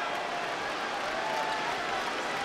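A basketball arena crowd at a 2011 NBA playoff game between the Mavericks and Trail Blazers roars steadily, a dense sustained wash of cheering and applause without pause.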